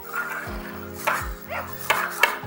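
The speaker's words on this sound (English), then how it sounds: "You can hear it barking as well." Several short electronic barks and yaps from a Hengbot Sirius AI robot dog toy, in an irregular rhythm, close by, with faint pings and whirring between them.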